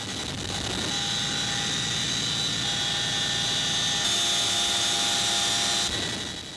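A military helicopter climbing with paratroopers aboard, its engine whine and rotor drone steady and loud from inside the cabin, with sustained high turbine tones and a slight shift partway through.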